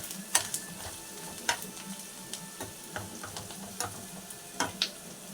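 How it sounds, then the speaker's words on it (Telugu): Sliced bitter gourd tossed with salt in a pan, giving soft scraping stirs and scattered light clinks of the utensil against the pan, faint and irregular, with no voices. "ఇప్పుడు బాగా కలుపుకోవాలి. అన్ని ముక్కలు పట్టేటట్టు బాగా కలుపుకోవాలి."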